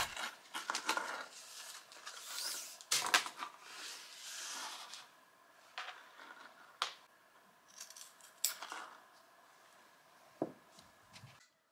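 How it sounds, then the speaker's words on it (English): Scissors cutting 1 inch elastic for a tiered skirt waistband, a series of close crisp snips and slicing strokes, irregularly spaced with brief pauses and light handling rustle between cuts. "For the waist, I cut 1 inch elastic exactly to the measurement"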